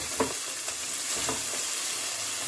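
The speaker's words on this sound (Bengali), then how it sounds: "মশলাটা ভালো করে কষে নিয়েছি এখন সাইড থেকে তেলও ছাড়তে শুরু করেছে" Spice paste frying in oil in a pan for a pumpkin and potato curry, a steady close hiss of sizzling with soft scraping stirs now and then, no voices.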